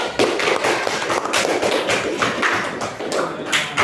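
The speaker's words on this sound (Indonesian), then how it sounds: "kasih tepuk tangan dulu" A classroom of students claps, with uneven, scattered hand claps and taps arriving in irregular bursts, fairly close and lively throughout.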